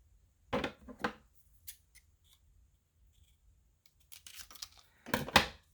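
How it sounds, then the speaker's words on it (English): Scissors snip through a paper stripe for a journal: two sharp cuts close together near the start, a few faint clicks, then a cluster of quick snips toward the end, close and clear with no talk. "So I want to just cut the stripe in the same place."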